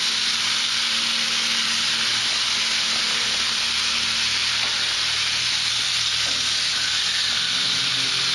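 A rack of lamb sears on a hot Himalayan salt block, giving a loud, steady sizzle and hiss that runs unbroken from start to finish with no voices.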